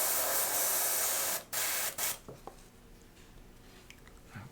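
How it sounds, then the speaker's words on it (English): An airbrush spraying out orange paint while being cleaned between colors, a loud steady hiss for over a second, a brief pause, then two shorter bursts before it falls quiet, leaving faint small clicks. "Let's spray out our orange that we had in there."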